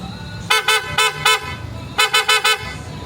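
A PIAA horn on a Kymco Dink S 150 scooter honks twice in quick bursts, four short beeps each time, loud and close, over a low engine idle.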